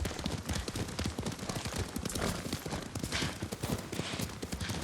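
Rapid hooves of a horse being ridden in the game Ghost of Tsushima, a fast, dense galloping clatter that runs continuously and loudly throughout.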